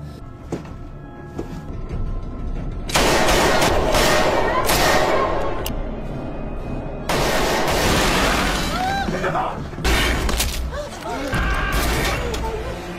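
Gunfire in a film scene set in and around a lift, with loud sustained bursts of rapid shots coming in several waves separated by quieter stretches, while a voice speaks over the action.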